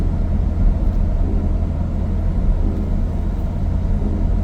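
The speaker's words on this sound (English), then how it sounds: "I'm gonna take it out of sport mode while we're cruising here, because it's really holding that first gear" BMW car with a failing head gasket cruising along a road, a steady low engine and road rumble heard from inside the cabin, continuous and fairly loud with no talk.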